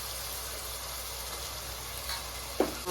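Mint, coriander and chili paste sautéing in a pan with ginger garlic paste, a steady soft sizzle throughout with a brief stir or clink near the end, no talking.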